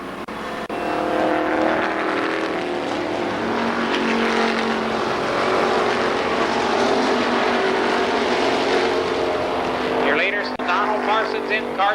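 Super late model stock cars race three abreast around Columbus Motor Speedway, a loud, continuous engine roar that swells and fades as they pass, under steady commentary from a track announcer.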